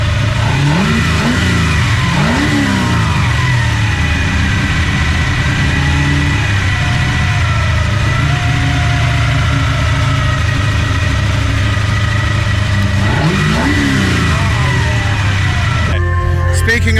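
A loud Ford XE Falcon Group C race car engine revs hard several times, rising and falling in pitch over a steady throaty idle, close by and continuous throughout.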